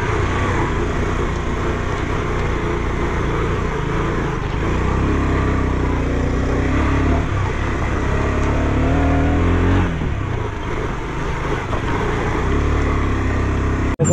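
A car climbs a muddy off-road mountain road toward Dhorpatan, Nepal, in light rain. Its engine drones steadily and loudly throughout and rises slightly as the car gathers speed.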